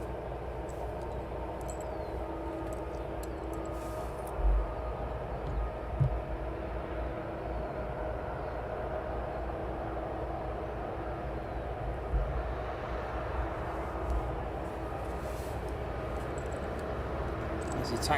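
A Star Air aircraft taxiing to its parking stand at East Midlands Airport, a steady low engine rumble and hum holding throughout, with a few faint knocks and clicks along the way.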